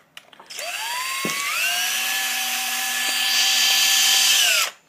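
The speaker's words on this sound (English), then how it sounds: "Just kind of turn the whole drill to tighten it if you want to." A power drill turning a Lee case trimmer whirs steadily for several seconds at close range, its motor pitch rising at start-up and holding level before stopping.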